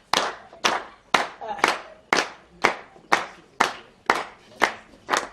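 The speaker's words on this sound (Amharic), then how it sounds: "ሞቅ አድርጉ፣ አጨብጭቡ።" An audience at an Ethiopian comedy show claps together in slow, even unison beats, about ten sharp claps spaced roughly half a second apart, each ringing briefly in the room.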